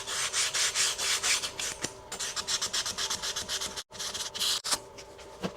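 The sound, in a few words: sanding muzzleloader with 220 grit sandpaper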